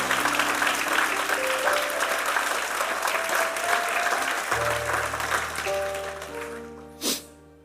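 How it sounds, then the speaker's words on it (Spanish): A church congregation applauds during a sermon, dense clapping over a sustained organ or keyboard chord, thinning out toward the end. "Un aplauso al Señor por eso."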